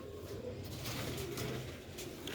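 A male rooftop pigeon of the Sialkoti breed coos in low, soft, repeated throaty phrases, close by amid faint background noise.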